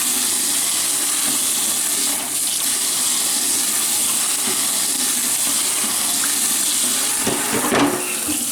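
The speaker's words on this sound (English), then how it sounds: "I'm going to rinse it off." An object is rinsed under a running tap, with a steady close rush of water throughout and brief splashy changes as it moves in the stream.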